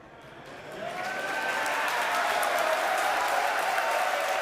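A large crowd at Starbase cheers and applauds as the Starship Super Heavy booster lands, a broad roar that swells over the first second and then holds loud and steady, heard from within the crowd.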